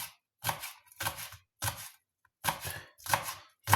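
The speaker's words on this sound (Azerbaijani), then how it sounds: "Soğanımızı bax belə xırda-xırda doğrayırıq, göy soğan." A knife chops green onion finely on a board for a salad, quick bursts of close, crisp strokes in short rhythmic runs separated by brief pauses.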